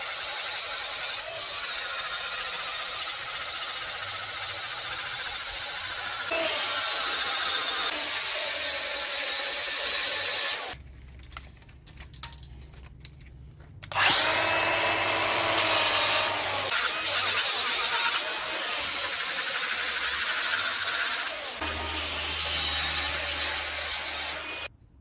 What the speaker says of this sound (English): I'm going to get the flap disc and just start cleaning the paint off the